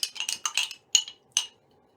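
A spoon clinks against a glass jar while stirring white paint into water, several quick bright taps in a burst followed by two separate louder clinks, close up with no talking.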